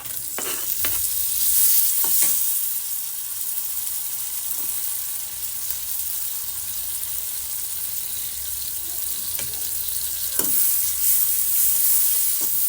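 Bitter gourd sabzi sizzles steadily in a pan over low flame while a spoon stirs it, giving scattered scraping strokes over a constant bright frying hiss, close and moderately loud.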